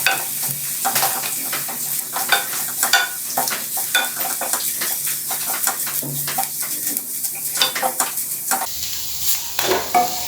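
Sliced onion and coconut sauté in a pan for Goan chicken xacuti, with a constant soft sizzle and regular scraping stirs of a spoon against the pan, close and without voices.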